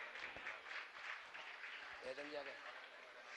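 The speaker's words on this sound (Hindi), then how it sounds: "तालियां आपकी लगातार बजते रहे।" An audience at a religious gathering claps continuously in the background, a faint, even patter of applause with a voice speaking over it partway through.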